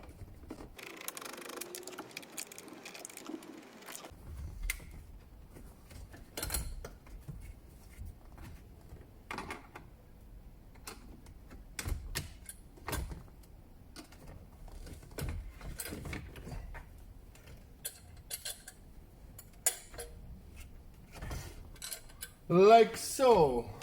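Screws are removed from the dashboard fascia of a 2014 Nissan Note. There are sparse, close clicks, rattles and small metallic taps of a screwdriver and loose screws in a quiet interior, with a brief louder rustle near the end.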